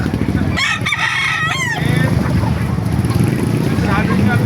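A rooster crows once with a long, strained call at a chicken market in Baliuag, Bulacan, followed by a steady rumble of background noise and faint voices.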